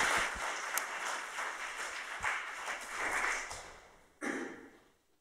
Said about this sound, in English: Should we give a clap to our four panelists?